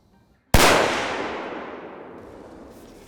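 A single loud rifle shot fired from a kneeling position cracks sharply after a moment of quiet, then rolls into a long echoing decay outdoors.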